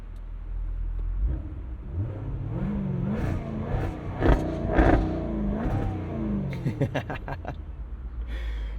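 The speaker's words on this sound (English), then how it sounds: "let's fire this up so you can hear the supercharged 5-liter V8 come to life" A 2021 Jaguar F-Type R Convertible's supercharged 5-liter V8 engine fires up with a rumbling start and settles into a deep idle, then gives several sharp revs close by.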